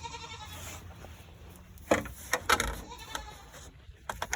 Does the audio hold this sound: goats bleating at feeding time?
yes